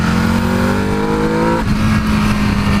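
An EBR 1190RX motorcycle ridden hard, its engine intake roaring loud and close as the revs climb steadily, drop off at a gear change, then build again.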